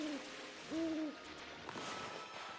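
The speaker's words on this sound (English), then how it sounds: "But even hear the owl hooting when you're," An owl hoots in the video game Ōkami, two soft tonal calls, one right at the start and a second, longer one a moment later, set over a quiet ambient background with no talking.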